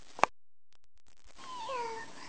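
A cat gives one short meow, close and fairly faint, after a sharp click and a brief quiet gap.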